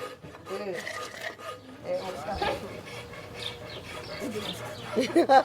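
Seri wood carving being sanded by hand: continuous close rasping and rubbing strokes that keep an uneven rhythm, under ongoing talk, with a dog barking and birds faintly in the background.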